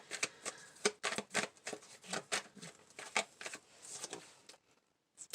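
Tarot cards are shuffled by hand in a quick series of crisp riffling bursts, close and fairly quiet, ending in a short pause and a final tap.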